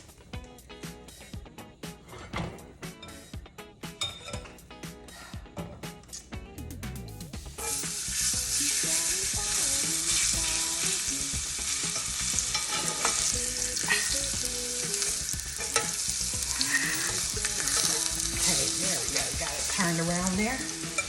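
Seasoned meat hits hot grease and erupts into a loud, steady sizzle, with scattered clinks and stirring before the frying takes over and roars on continuously.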